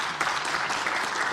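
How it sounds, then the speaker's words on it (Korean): Lawmakers applaud from their seats in the Korean National Assembly during a floor leader's address, a continuous, even wash of many hands clapping in a large chamber. "의원석에서 박수가 터져나옵니다."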